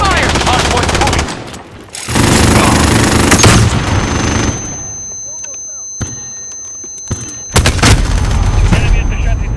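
Dense bursts of loud, close video game gunfire come in two long volleys, then sparse scattered shots, then another heavy burst at the end. Shouted voices mix in with the shooting.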